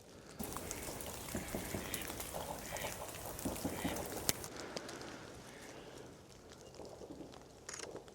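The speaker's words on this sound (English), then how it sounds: "There's some mallards there." Mallard ducks quack in a snowy outdoor wildlife setting, brief scattered calls over a steady wash of background noise, moderately distant and fairly faint.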